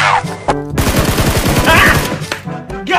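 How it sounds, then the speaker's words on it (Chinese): Gunfire in the mobile battle royale game PUBG Mobile, a loud rapid burst of shots packed together in the middle, with shorter bursts at either end, heard close. "前方枪声不断，去探探什么情况。"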